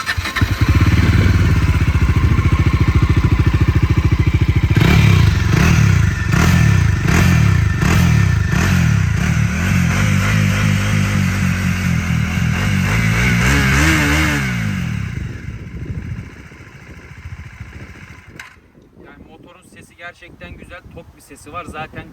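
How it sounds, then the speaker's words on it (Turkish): A Bajaj Dominar 400 motorcycle engine with a twin-outlet exhaust fires up and runs with a loud, pulsing clatter close by, revving up and down before settling and fading toward the end. "Şimdi motoru çalıştıralım."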